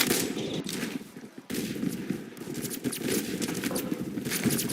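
Rapid gunfire in the Phantom Forces video game, bursts of automatic shots crackling back to back over a busy game soundscape, with no speech.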